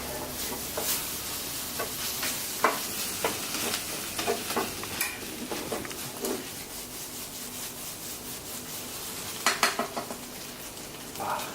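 Onion and egg stir-fry in a hot, smoking pan: a steady sizzle with repeated scraping and stirring strokes, some sharper clatters of utensil on pan, no talk.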